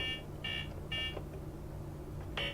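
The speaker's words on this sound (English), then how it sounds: "boops and beeps when you move" Short electronic beeps from a Donkey Kong tabletop arcade game sound in a loose, irregular pattern over a low steady hum, thin and tonal like arcade game effects.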